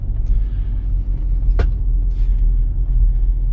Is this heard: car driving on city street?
yes